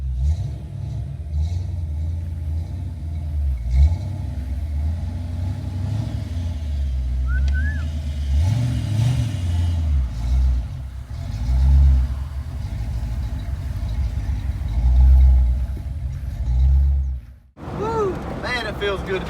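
A Ford Fox body Mustang engine rumbling steadily from inside the car while driving, with low throb and occasional swells, and a person talking over it near the end.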